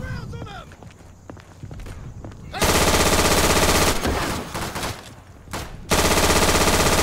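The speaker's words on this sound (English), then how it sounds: "I can't aim with this gun too." Rapid automatic gunfire from a support-class machine gun in the World War II shooter Day of Infamy, loud and close in two long sustained bursts, with footsteps and talk in the quieter gaps.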